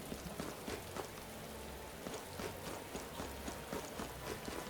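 Steady rain falls in the video game Metaphor: ReFantazio, a dense, continuous patter of drops spread evenly through the whole stretch, with no voices over it.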